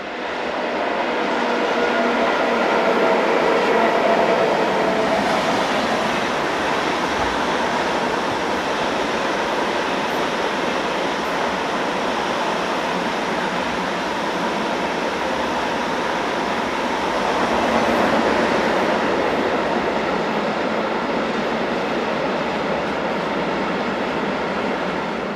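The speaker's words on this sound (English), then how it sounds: "The train slows for a signal check" A DB electric train slows for a signal check, its steady rolling rumble and wheel noise loud and continuous throughout, swelling slightly toward the end, with no voices.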